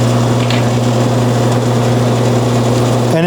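A taper drill bit bores a hole in a bowling ball. A loud, steady motor whine hums continuously, then shifts abruptly at the very end.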